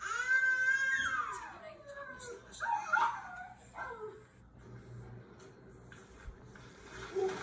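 A dog whimpers with high, drawn-out whines that slide downward, then gives a few sharp yips. Later it makes softer whining sounds over low room noise, with faint voices in the background.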